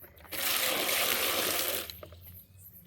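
A close splash and gush of tank water, scooped and poured out in one steady rush lasting over a second, followed by a few faint drips and clinks.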